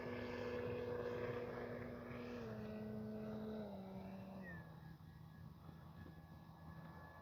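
An E-flite Carbon Z T-28 RC airplane flies in and lands, its electric motor a faint steady whine that drops in pitch as it slows, heard alone without talking.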